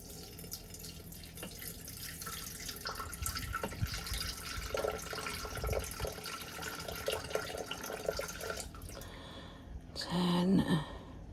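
Water runs from a tap into a measuring vessel for bread dough, a steady mid-level pour with small clinks of handling and a brief louder splash near the end.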